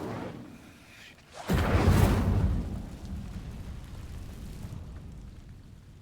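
An Incendio fire spell ignites dry vines in a video game: after a quiet stretch, a loud roaring whoosh bursts out, then fades into a steady, lower rumbling burn that lasts to the end.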